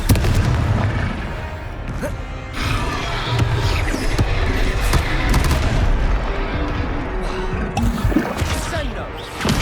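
Confringo fire spell blasts in the Hogwarts Legacy video game during a duel, loud dense booms and crackling bursts rolling over one another, with short dropouts between impacts.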